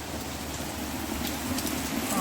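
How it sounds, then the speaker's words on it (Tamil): Heavy rain pours steadily outdoors, a dense, continuous hiss of drops drumming on surfaces, loud and close throughout with no pauses. "பெரிய மழையா வருது"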